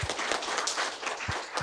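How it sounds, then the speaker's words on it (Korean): Audience applause welcoming a speaker at an academic education conference, a fairly quiet, even spatter of many hands clapping throughout, with no talking. "모두 큰 박수로 맞이해 주십시오."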